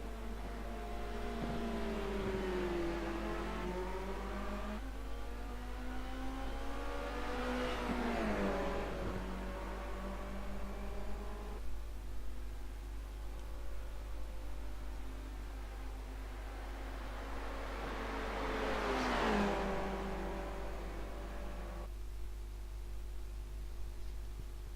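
Formula Renault 2.0 race car engines in a sim racing game at Bathurst, several high-pitched engines revving and shifting through gears as cars pass, with rising and falling whines over a steady low drone, no talking.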